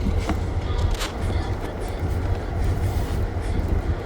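An Amtrak Floridian passenger train rumbles steadily along the tracks, heard from inside a coach carriage, a constant low roar with faint rattles.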